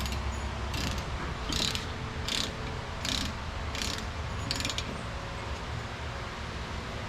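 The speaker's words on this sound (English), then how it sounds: "That should ratchet, doesn't it?" A ratchet wrench tightening a lug nut on a 2016 Chrysler Town and Country wheel clicks in about six short, evenly spaced bursts over steady background noise.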